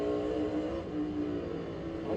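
Stock race car engine at North Wilkesboro roars steadily and fairly loud for a couple of seconds, a sustained harmonic drone with slight pitch wavering and no talk over it.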